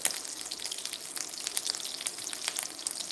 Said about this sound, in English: So the shrimp are going to go in there. Should hear a good sizzle.